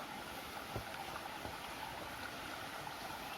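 A deep-forest stream fed by water welling up from underground rushes steadily and evenly, a continuous close wash of water with no voices.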